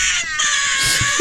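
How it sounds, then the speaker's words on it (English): Edited string of high, strained cartoonish screams from Mario in a video game, a continuous wailing cry that rises and falls, loud and close without a break. "someone edited all of Mario's screams"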